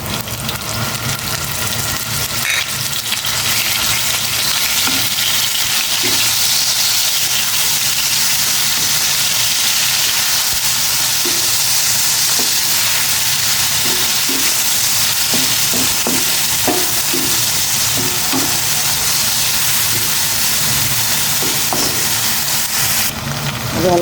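Fermented shrimp paste (alamang) sautés in a pan with a steady, hissing sizzle that runs evenly throughout, broken by occasional soft clicks of stirring.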